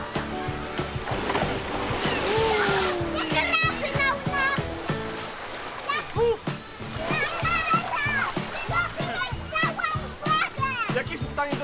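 Children chatter and shout near water on holiday, with a splashing burst as a man jumps into the water partway through amid lively voices.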